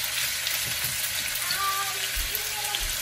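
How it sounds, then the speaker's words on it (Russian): Steady, loud sizzling of chicken frying in hot olive oil, a dense continuous crackle with occasional soft pops and no talking. "опускаем курицу и обжариваем"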